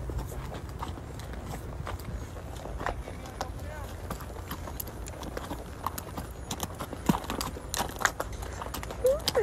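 Horse hooves clip-clop along a trail ride in a steady, loose walking rhythm, close by under a constant outdoor rumble, with scattered clicks and faint voices around them.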